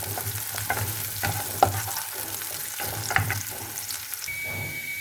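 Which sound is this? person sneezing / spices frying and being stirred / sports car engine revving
spices frying and being stirred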